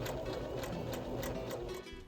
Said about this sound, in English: we're going to temporarily secure the pocket to the pant leg by sewing a basting stitch at the top and the side seam